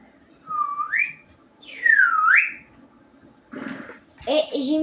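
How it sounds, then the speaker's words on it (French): Whistling in the video game ARK, two rising slide whistles in a row, clear and close, followed by short bursts of speech. "Et j'ai mis que le sifflement."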